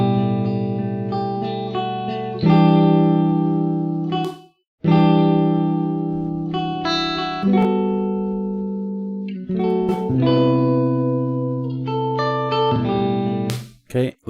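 Electric guitar chords and single notes ring through a lush free reverb plugin, each strum blooming into a long, shimmering tail with short gaps between phrases.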